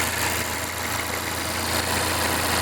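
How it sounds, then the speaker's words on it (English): A 2017 Volvo XC90 engine idles steadily at close range, a constant low rumble with an even broadband hiss and no voices. "Right, the engine works fine for me."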